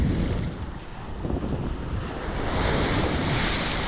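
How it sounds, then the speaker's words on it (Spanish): Rough sea waves surge and break around a swimmer at a stony Caribbean beach in Akumal, a steady loud wash of surf with heavy wind buffeting the microphone throughout. "ya tragamos la primera ola"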